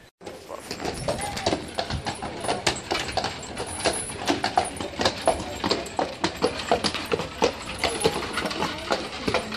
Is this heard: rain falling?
no